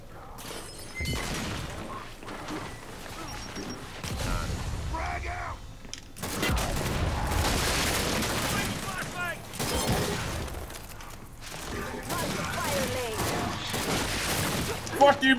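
Gears 5 gunfire heard while a pistol gets tried out: bursts of shots and crashing impacts mixed with game noise and someone talking over it, fairly loud and steady, with sharp pops near the end.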